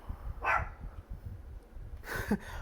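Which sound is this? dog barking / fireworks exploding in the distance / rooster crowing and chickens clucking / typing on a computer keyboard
dog barking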